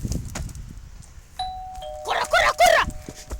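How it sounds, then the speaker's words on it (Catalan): At a house by a vineyard, a doorbell gives a clear two-tone chime, followed by loud voices calling out nearby. "Ara ficarem el seu timbre."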